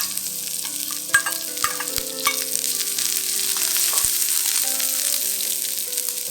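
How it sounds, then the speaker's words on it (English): Spring onion whites and onion frying in a pan with shrimp, a steady oily sizzle under occasional stirring clicks and scrapes of a utensil against the pan. "Fry the white parts of the spring onions,"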